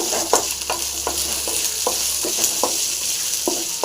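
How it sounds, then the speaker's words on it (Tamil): Whole spices, cumin and fennel with dried fenugreek leaves (kasuri methi), frying in hot oil for an egg curry masala, a steady close sizzle broken by regular scraping stirs of a spoon in the pan. "இது சேர்த்துட்டு நல்லா ஃப்ரை பண்ணுங்க"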